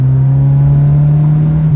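A car's engine revving hard under acceleration on a test drive, one steady loud drone climbing slightly in pitch for a couple of seconds.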